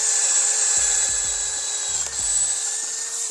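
A FortG brushless drill boring into a log with a thicker bit, a steady close motor whine with intermittent low grinding thuds as the bit bites into the wood.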